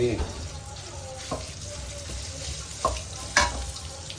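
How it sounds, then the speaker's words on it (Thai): Red curry paste and chili are dry stir-fried in a pan without oil for a Thai fried fish dish, with a low sizzle, scraping stirs and a few sharp clanks of the utensil against the pan. "เราก็ต้องผัดพริกให้มันแบบแห้งๆหน่อย ไม่ใส่น้ำมันนะ"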